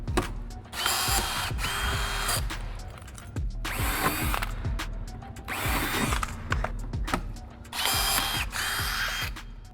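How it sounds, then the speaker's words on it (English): A power drill bores rivet holes in a composite side rocker panel on a C8 Corvette Z06, running in four loud, whining bursts separated by brief pauses, close up with no talking. "Once I drill the hole and I set the rivet, we lock that in"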